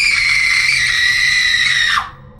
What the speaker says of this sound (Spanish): aquella mujer dio un grito escalofriante.